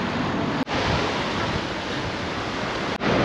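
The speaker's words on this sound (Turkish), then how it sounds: "Evet, okyanusumuza kavuştuk." Ocean surf on the Chilean coast makes a steady, loud wash with wind buffeting the microphone, broken by two brief dropouts.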